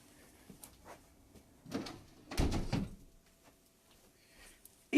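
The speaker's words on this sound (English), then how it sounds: "Yes, I actually went up to close the door in the middle of a rant." A door is pushed shut indoors, with a few soft shuffles and creaks, then a louder thud and rattle as it closes, all fairly quiet and without speech.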